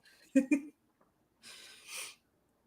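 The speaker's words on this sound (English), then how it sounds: "Let me clear my throat real quick." A person clears their throat with two short, sharp bursts, then gives a softer breathy rasp a moment later, close and alone in a quiet room.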